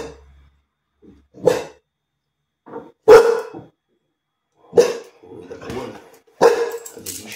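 A Dogue Brasileiro female barks in separate deep, loud bursts indoors at close range, about five or six barks with quiet gaps between them and no talking.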